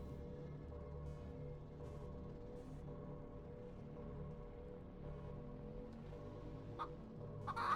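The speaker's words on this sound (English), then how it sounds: "Chicken!" Game chickens cluck steadily in Chicken Dungeon 3D, a dungeon-crawler game jam entry, under a droning background music bed, with a brief sharper squawk near the end.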